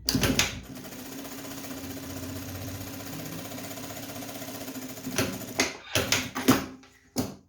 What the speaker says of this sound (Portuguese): passo uma costura aqui na máquina